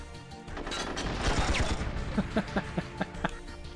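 In the video game 007: Tomorrow Never Dies, a weapon is reloaded with a burst of mechanical clicks and clacks, followed by a quick rhythmic run of about six short metallic snaps, fairly close and alone.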